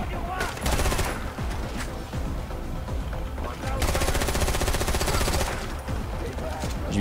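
Bursts of automatic gunfire in the video game Far Cry 4, with two loud stretches of rapid shots separated by a quieter gap, heard under a man's speech in French.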